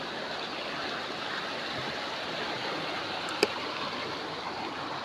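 A river rushes over stones in a steady, broad wash of flowing water, close and continuous, with a single brief click partway through.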